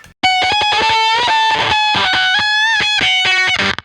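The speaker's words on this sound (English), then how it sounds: "The Fuzz Factory, again with the way I've set it up, is completely inappropriate for that sound." Electric guitar through a Fuzz Factory fuzz pedal, heavily distorted and gated, playing choppy bursts of notes and sustained tones that cut off abruptly, loud and alone.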